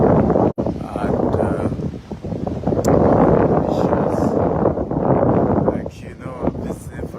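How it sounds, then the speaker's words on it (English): Strong wind roars near open water, buffeting the microphone in a steady rumble, while a person talks over it throughout. "I'm visiting for the first time, and it's very, very windy."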